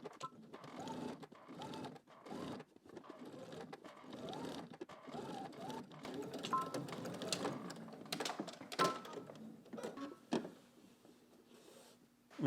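A domestic sewing machine understitches a polo shirt seam in short quiet bursts of rapid stitching, separated by brief pauses, with small handling clicks between runs.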